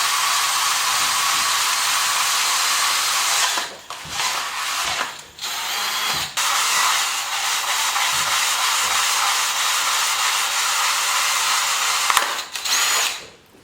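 A carbide burr in a high-speed rotary tool grinds out a hole in metal during a 2JZ-GE cam and crank trigger installation, a loud continuous whine broken by several brief pauses, close up and alone.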